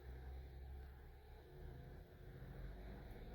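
A car with a ZF 8HP automatic transmission idles in park and is revved, a low steady engine rumble that swells slightly, fairly faint and with no talking.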